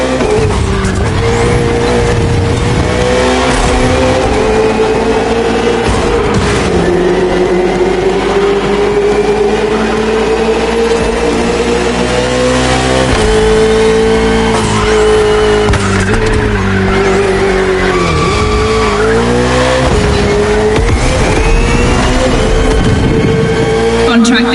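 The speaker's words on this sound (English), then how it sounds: "the KTM RC16 takes on the Ferrari 488 GT3" A KTM RC16 racing motorcycle and a Ferrari 488 GT3 car roar around a circuit in The Crew Motor Fest, engines droning loud and continuous with rising and falling pitch, tire squeals and a voice talking over the racing.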